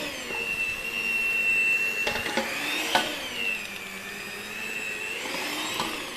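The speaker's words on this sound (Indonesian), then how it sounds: "Ini ya mixernya." An electric mixer runs in donut dough with a steady whining motor hum whose pitch wavers slightly. A couple of brief clatters break in, and no one speaks.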